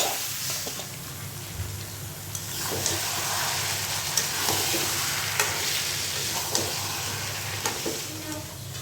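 Meat curry cooking on a stove, an even sizzle and bubbling with occasional clinks and scrapes of a utensil, fairly close and without talk.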